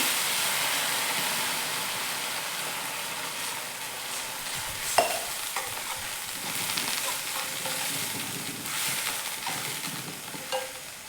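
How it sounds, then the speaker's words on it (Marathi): A beet manchurian mixture is stirred in a hot pan, giving a continuous sizzle and a soft scraping swish with an occasional clink of the spoon, and no talking. "आता हे मिक्स करून घेऊया चांगलं।"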